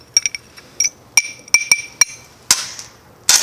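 A spoon stirs a red grapefruit mocktail in a glass, giving sharp, bright clinks against the glass in an irregular series of about a dozen close strikes, with a short rattling swirl near the end.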